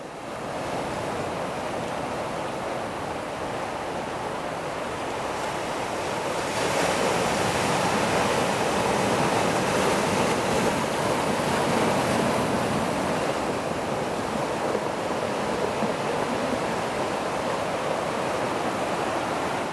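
Large surf waves at Tanjung Papuma beach rolling in continuously, a steady broadband roar that swells louder midway and stays dense to the end, with some wind noise on the microphone and no voices.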